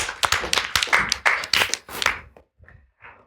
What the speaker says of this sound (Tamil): ஒரு பெரிய கைத்தட்டோடு வரவேற்போம்